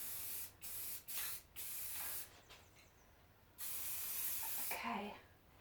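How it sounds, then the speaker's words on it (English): Aerosol spray paint hisses in several short bursts, then one longer continuous spray, coating an asparagus-leaf Christmas wreath white in a doorway, close and fairly loud with no talking. "Give it a good spray."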